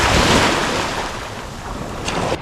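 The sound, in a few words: ocean waves washing on shore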